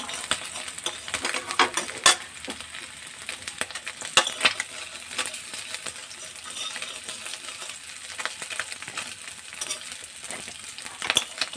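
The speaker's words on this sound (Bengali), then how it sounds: "বেশি ভাজিনি, হালকা করে ভেজে নিলেই হবে।" Small mourala fish fry lightly in a kadai, giving a steady, close crackling sizzle broken by a few sharp clinks of utensils.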